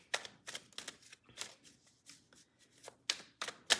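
A deck of tarot cards is cut and shuffled close up in a series of sharp riffling snaps and soft slides, several distinct bursts separated by brief quiet gaps.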